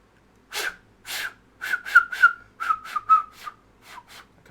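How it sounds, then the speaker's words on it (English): Person whistling a series of short, breathy notes, airy and uneven, some sliding in pitch, close to the listener with brief pauses between notes. "I'm not great at whistling."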